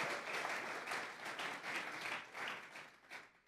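A church congregation gives a sustained round of applause during a Spanish-language sermon. The even, dense clapping sounds fairly distant and faint and tapers slightly toward the end.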